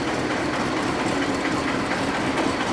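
An old tractor engine runs steadily in third gear, a dense, continuous mechanical drone with a rattling, clattering texture that stays loud and even throughout, with no talk over it.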